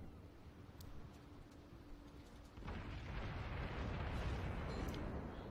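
Battleship Montana in World of Warships fires shells at the destroyer Kagero, heard as a low rumbling roar of gunfire and explosions that swells louder partway through and stays heavy, with no talk.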